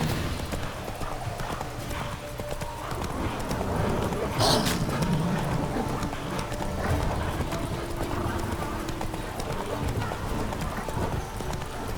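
Roach the horse in The Witcher 3 galloping, a fast, steady clip-clop of hooves close by, with a brief whinny-like burst near the middle and a voice speaking over it at times.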